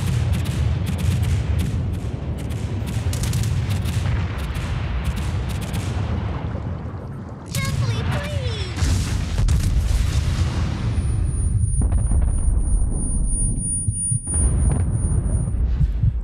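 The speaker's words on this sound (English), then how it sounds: "Lo Yang threw torpedoes at me." Loud, rolling booms of torpedo explosions striking a battleship in World of Warships, continuous heavy rumbling with a sharp blast near the middle, then renewed rumbling and a faint high whine.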